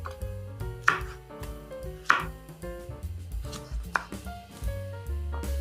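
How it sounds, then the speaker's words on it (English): Quick rhythmic knife chops on a cutting board through spring onion greens, close and distinct, a steady series of taps with a few sharper strikes, over soft background music. "I'm just chopping the greens, spring onion greens."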